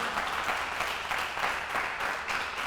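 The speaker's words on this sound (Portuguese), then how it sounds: "Dá um aplauso aí" Applause from a church congregation during a sermon, a steady dense wash of many hands clapping that stays fairly even and moderately loud from start to finish, with no voices rising above it.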